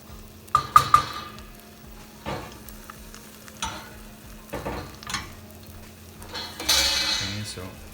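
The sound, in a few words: chorizo and eggs scrambling in a pan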